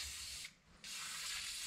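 WD-40 sprayed onto bolt threads during reassembly of a 1969 Minneapolis Moline U302 engine: two close hissing bursts split by a brief pause, the second longer and steady.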